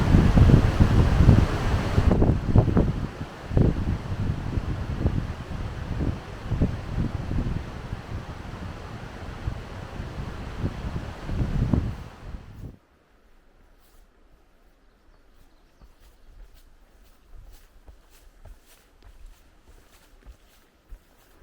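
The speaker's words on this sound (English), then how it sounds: "It's also very, very windy today" Strong wind buffets the microphone on the coast of Cape Chignecto, a loud broadband roar that drops away abruptly near the halfway point to leave only faint rustling.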